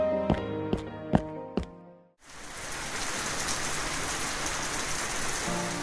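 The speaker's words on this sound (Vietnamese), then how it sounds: "Trời mưa to thế này" Heavy rain pours down in a dense, steady hiss that continues without a break, preceded by a few soft bell-like tones that fade just before the downpour begins.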